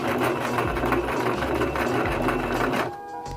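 A sewing machine stitching fabric for a teddy bear runs in a steady, fast mechanical whir with a rapid needle rhythm, close and loud, then stops abruptly near the end.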